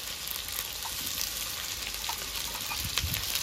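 Chopped onion and green chili sizzle steadily in hot oil, a continuous close crackling hiss with scattered pops and no talk.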